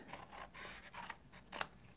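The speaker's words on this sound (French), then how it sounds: "maintenant, je vais prendre ma paire de ciseaux" Scissors snip through a paper greeting card in a few crisp cuts, with close rasping strokes and one sharper snip near the end and no talking over it.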